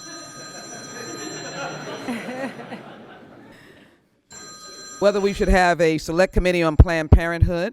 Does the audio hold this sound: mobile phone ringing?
yes